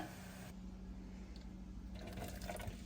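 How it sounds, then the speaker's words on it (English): Boiled water drains through a strainer off softened strawberry and lemon skins, a soft continuous pouring wash that swells slightly toward the end. "we're just gonna strain all this water off"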